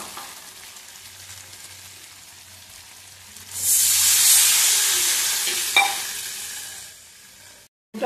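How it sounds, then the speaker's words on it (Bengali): Hot oil in a pan for a fasha fish curry sizzles quietly, then water goes in and a loud, close burst of hissing steam surges and slowly fades before cutting off, with no talk. "তেল ছেড়ে এসছে, এবার এতে আমি দেবো জল।"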